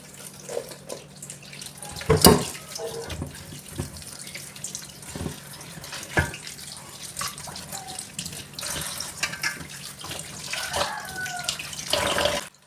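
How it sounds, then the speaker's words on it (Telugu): Okra washed under a running kitchen tap, a steady close stream of water with splashing, rubbing and occasional knocks of the pods against the sink. "ఇక్కడొచ్చేసి ముందు బెండకాయలన్నీ కూడాను వాష్ చేసేసుకుంటున్నాను"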